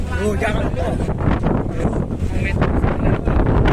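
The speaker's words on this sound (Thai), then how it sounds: "ลมแรงครับ" Strong wind gusting across an outdoor stage at night, a loud rumbling buffet of microphone wind noise that surges and eases, with someone talking over it.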